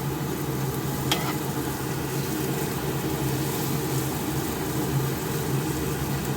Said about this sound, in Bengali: সব মশলা ভাজা ভাজা হয়ে গেছে।